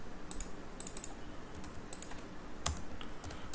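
Rapid, uneven clatter of computer keyboard keys as code is typed, with crisp close clicks in quick bursts and short pauses, including one louder keystroke near the end.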